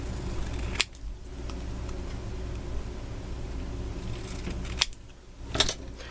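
Scissors snipping through a recycled Christmas card, two crisp cuts a few seconds apart over a low steady room hum, close and quiet.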